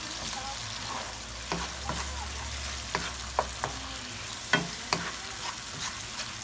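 Meat pie filling sizzles in a pan, a steady frying hiss with a low bubbling undertone, broken by intermittent scrapes and clinks of a utensil stirring.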